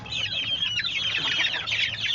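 About eleven chicks in a small backyard poultry coop peeping in a rapid, continuous chorus of high chirps, close by, with a faint low background hum.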